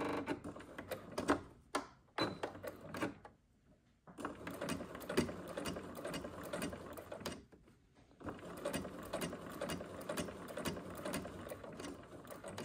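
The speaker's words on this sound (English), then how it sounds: "So I'm just gonna start sewing like normal." A sewing machine stitches a seam in close, rattling runs, sewing in bursts with a couple of brief pauses and one longer stop, steady and mechanical with no voices over it.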